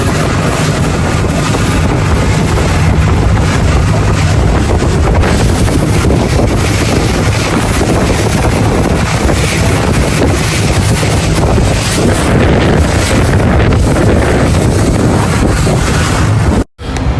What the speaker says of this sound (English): We just got on our water taxi.